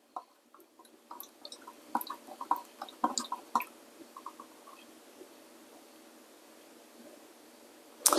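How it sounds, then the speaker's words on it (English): Watery tomato seeds and pulp stirred in a container, with soft wet squishes and drips scattered through the first few seconds, then quieter, ending in a brief louder knock. "we're going to give that a stir"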